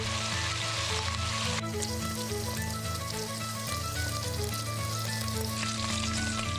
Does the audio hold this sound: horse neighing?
no